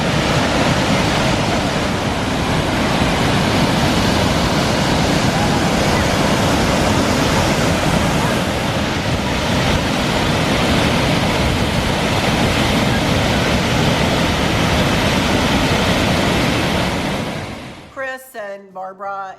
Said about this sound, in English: you can walk over to Nugget Falls, which is a waterfall